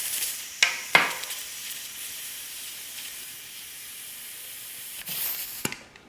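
Air hisses faintly and steadily as a bicycle tire is inflated, with two sharp bursts near the start and more near the end, no voices.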